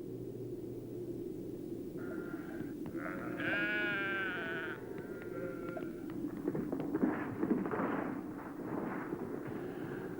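Goats bleat on a barren rocky slope of Mount Ararat, several clear calls standing out over a steady low rumble of wind or engine noise.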